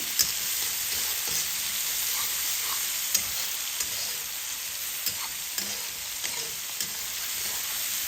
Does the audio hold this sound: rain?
no